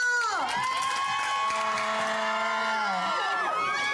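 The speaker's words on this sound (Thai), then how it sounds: "ขอเสียงปรบมือ" A studio audience at a Thai variety show whoops and cheers with high, swooping shouts and scattered clapping, loud and lively throughout.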